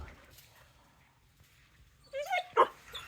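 Young female puppies give a few sharp yips, barks and whimpers near the end, after a mostly quiet stretch indoors.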